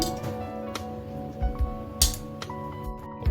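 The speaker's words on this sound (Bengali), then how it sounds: "তার জন্য আমি একটা মিক্সিং জারে আমগুলো নিয়ে নিচ্ছি" Ripe mangoes go into a mixer grinder jar, producing a few light clinks and soft thuds close by over a faint background hum, with no speech.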